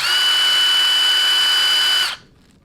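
A Milwaukee M18 FUEL Gen-3 18-volt 1/2-inch compact impact wrench with friction ring runs at a loud, steady whine with a strong tone, then cuts off abruptly just after two seconds, leaving near silence.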